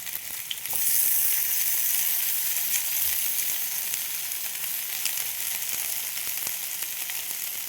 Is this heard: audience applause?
no